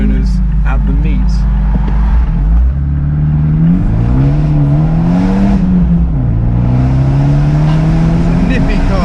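A Noble M12 sports car is driven, its engine droning loud and near with pitch that rises and falls through gear changes, while voices talk over it.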